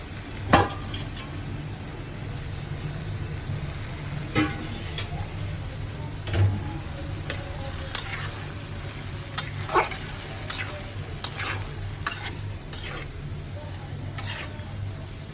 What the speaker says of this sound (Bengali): এবার মটরশুঁটি আর আলু দিয়ে দেব